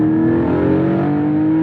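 The naturally aspirated engine of a Porsche 718 Spyder, a roughly 400-horsepower, sub-3,200-pound car, holds a loud, close, steady high-rpm drone with a strong sustained pitch for under two seconds, with no talking.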